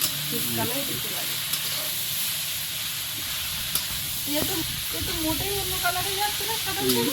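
Cabbage sizzles and fries steadily in a hot pan, a continuous crackling hiss with occasional stirring clatter, while voices talk intermittently over the cooking.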